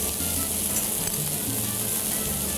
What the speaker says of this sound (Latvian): uz tās pašas pannas lieku cept sīpolu